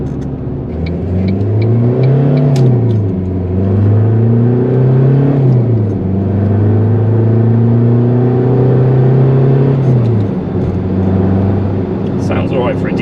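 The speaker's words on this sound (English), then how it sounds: "Sounds alright for a diesel." A Ford Mondeo ST TDCi diesel engine pulls hard through the gears, its steady drone rising in pitch, dropping at each shift and climbing again. It is heard from inside the car, loud and continuous, with faint speech underneath.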